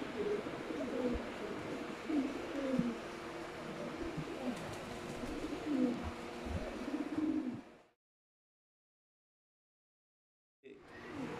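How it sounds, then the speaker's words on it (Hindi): Soft, low cooing from Tasweer pigeon chicks murmurs continuously with rustling in the background, then cuts to silence before briefly resuming. "जो है वो तस्वीर वाले कबूतरों के बच्चे हैं।"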